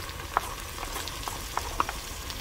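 Onions and tomatoes fry in a pan with a soft, steady sizzle, and a few sharp taps of a spatula stand out against it, close by and fairly quiet.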